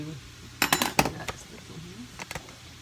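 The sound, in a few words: stirring spicy ranch sauce in a bowl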